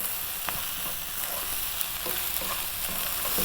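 Chicken fried rice is stir-fried over high heat in a restaurant-style wok, with a steady loud sizzle and repeated scraping clinks of the stirring utensil.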